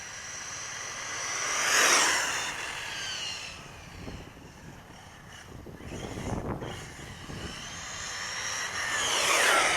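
An Arrma Typhon 6S RC car on grippy street tires races down a cul-de-sac, its high whine swelling as it passes close, fading off, then building again as it returns.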